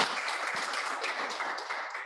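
Audience clapping for panel speakers at a regional dialogue on sustainable food lifestyles: a brief, dense wash of applause from many hands, fairly distant and steady.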